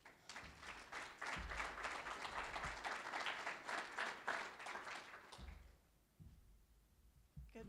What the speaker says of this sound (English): So let's give her a nice round of applause.